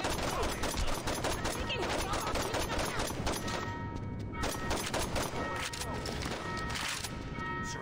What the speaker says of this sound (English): one of the judges have a shotgun